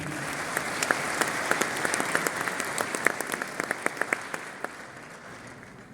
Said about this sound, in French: monsieur Mohamed Hassan Ben Saleh, sous vos applaudissements, s'il vous plaît.